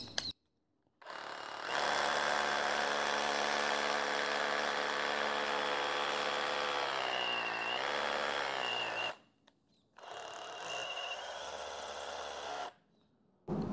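Bosch GBH 187 Li cordless rotary hammer driving an 8 mm bit into hard concrete full of gravel, starting slower and then speeding up to a loud, steady high-pitched whine, with the pitch sagging near the end before it stops and briefly restarts.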